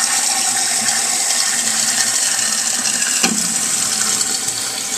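A repaired household toilet flushes with a steady rush of water and refill hiss, a brief clunk near the end as the flapper drops closed, recorded close and loud with no talking.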